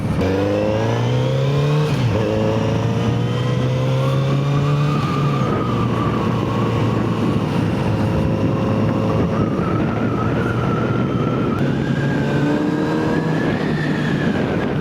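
A Kawasaki Z900RS motorcycle engine with stock exhaust idles and revs up and down nearby, its exhaust note rising and falling steadily with no talking.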